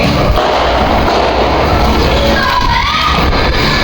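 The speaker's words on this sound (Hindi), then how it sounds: "इंडिया जीत चुका है, तो यहाँ देखो पटाखे फूट रहे हैं।" Firecrackers bursting outdoors at night in celebration after an India cricket match win, heard as a loud, dense, continuous wash of crackling and thumping with a crowd-like roar throughout.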